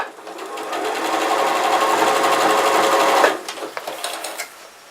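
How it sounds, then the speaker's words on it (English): A sewing machine stitches along a fabric's raw edge in a steady, rapid mechanical whir for about three seconds, then slows to a few scattered clicks and stops; close and loud, with no talking. "You're just going to do a stitch along the raw edge to help strengthen it."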